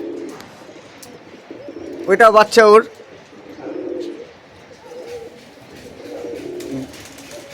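Giribaz pigeons coo nearby, one rolling burst standing out loudly, while someone talks over the soft background.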